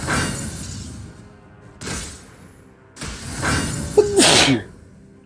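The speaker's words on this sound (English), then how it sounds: "We pause for a sneeze." A few sharp bursts of noise, then a loud sneeze near the end, close and abrupt.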